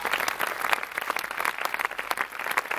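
Steady audience applause at an outdoor summer festival evening event, a dense continuous wash of many hands clapping throughout with no talk on top.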